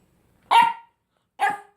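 A pet dog lets out two sharp, loud barks close by at feeding time, each short and separated by a clear pause of silence.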